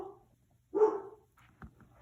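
A single dog gives one short bark in a quiet room, followed by a few faint soft sounds.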